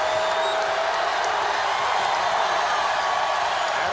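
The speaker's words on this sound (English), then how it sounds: "And again, the crowd comes to life." Crowd noise swells through a packed arena during the 1994 NBA Finals Game 2 between the Rockets and Knicks, a steady broadband roar of cheering that holds loud and continuous for the whole stretch.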